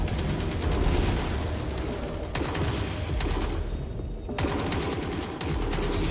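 Heavy sustained fire from a hostile mech in The Forever Winter video game, a loud, continuous machine-gun barrage that breaks off briefly near the middle and then resumes at full force.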